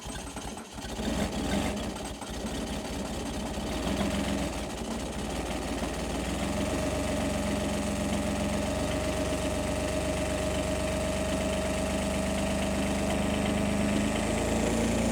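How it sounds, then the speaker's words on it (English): Ventrac tractor diesel engine cold-starting after block heater use: a brief cranking catch, then a steady, loud, slightly knocking idle running continuously close by. "The tractor still started, but that's a lot on the engine"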